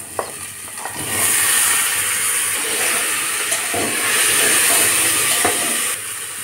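Mixed vegetables, bitter gourd, eggplant, long beans and potato, tipped into hot oil in a pressure cooker with spice pastes, give a sudden loud, steady hiss and sizzle that holds for several seconds after a few soft knocks.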